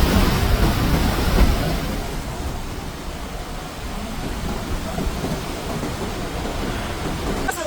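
Heavy rain pours steadily during a flood in Arequipa, with thunder rumbling low beneath the downpour and a louder roll near the start; continuous, dense and close, with no voices.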